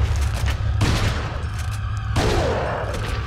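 Gunfire in Resident Evil 4 comes in heavy, loud booming blasts, a burst at the start and more shots about a second and two seconds in, each with a long ringing tail, and no one speaks.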